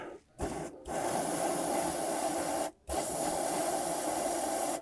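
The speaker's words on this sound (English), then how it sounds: "Spray a little bit more penetrant." Long hissing bursts of an aerosol penetrant spray on a rusty rear shock mount of a Volvo XC90, two short blasts followed by a sustained spray, close and steady.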